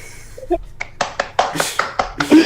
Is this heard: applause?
yes